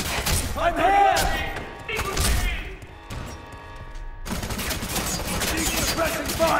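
Gunfire in the shooter game FEAR 3 comes in rapid bursts and thuds that overlap with loud shouted voices, dense and close throughout.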